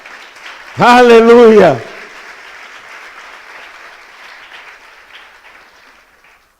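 A church congregation applauds after a loud shouted exclamation from the preacher, and the clapping continues as a softer, scattered patter that slowly fades out.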